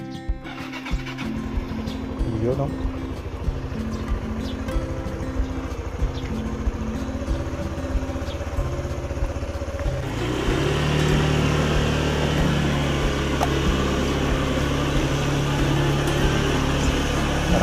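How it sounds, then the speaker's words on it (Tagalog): A parked motorcycle idles as it warms up before a fishing trip, a steady low engine hum that grows louder and rougher partway through, with a brief spoken remark. "Initin ko lang po itong aking motor."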